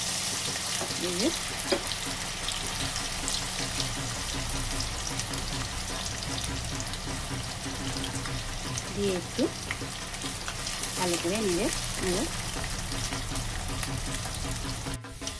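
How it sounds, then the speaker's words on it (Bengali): Sliced onions coated in cornflour fry in hot oil for crispy fried onions, a steady close sizzle running throughout while a person talks over it in places. "তেল গরম হয়ে গেছে, এবারে পেঁয়াজগুলো দিয়ে দেবো।"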